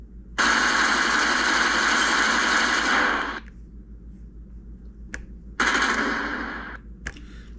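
A Browning machine gun sound effect played from an ESS-One sound module: two loud bursts of rapid rattling fire, the first about three seconds long, the second shorter, separated by a quiet gap with a faint click.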